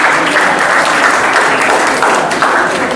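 A classroom audience at a quiz session claps steadily and loudly, a dense, even patter of many hands that carries on throughout without any talking.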